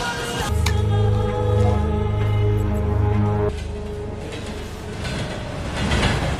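A train travels along the track with a steady low rumble and hum. The sound changes partway through, and the rolling noise carries on to the end without voices.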